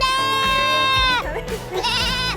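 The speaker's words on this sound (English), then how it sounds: "These are boar goats, and we raise these guys out here." Boer goats on a ranch bleat loudly and close by, first one long wavering cry and then another shorter quavering call, with livestock shuffling in the background.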